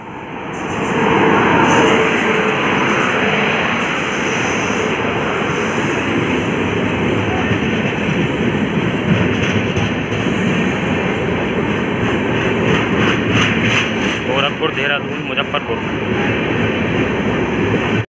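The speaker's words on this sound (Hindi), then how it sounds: "हमारी ट्रेन आती हुई राप्ती गंगा एक्सप्रेस" A passenger train, the Rapti Ganga Express hauled by a WAP-7 electric locomotive from Ghaziabad shed, rolls loudly and steadily past at close range in India, with continuous rumble and rattle throughout and no talk.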